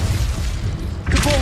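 A Confringo blasting spell in Hogwarts Legacy goes off as a loud boom with a crackling burst near the end, after a rumbling lead-in and brief talk.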